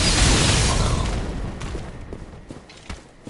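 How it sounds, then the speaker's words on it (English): A loud, rumbling video game explosion on PS4 fades into crackling debris and scattered pops, with a few sharper bursts toward the end. "Sweet-ass explosions."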